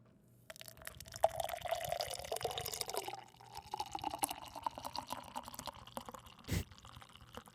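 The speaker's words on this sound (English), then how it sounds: "All right, I'm gonna pour some out into the glass." Soda poured into a glass, heard as a soft, close fizzing trickle with light bubbly crackles that rise and fall over several seconds, followed by a brief thump.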